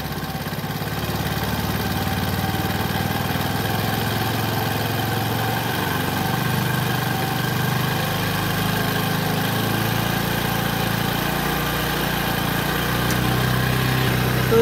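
A Bajaj Discover 100cc motorcycle engine idles steadily and fairly loudly, a continuous low putter with slight fluctuations in pitch and no one speaking.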